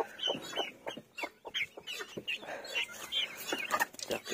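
Pet chickens, two roosters, two hens and three chicks, cluck and squawk in short irregular bursts close by, with a voice now and then among them.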